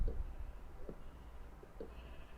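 Sheep in the Minecraft video game bleat faintly a few times over a quiet low background rumble, short and spaced apart, with no voices.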